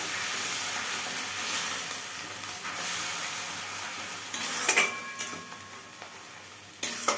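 Ginger and tomato spice paste frying in a pan, a soft steady sizzle and hiss with a few faint stirring clinks partway through.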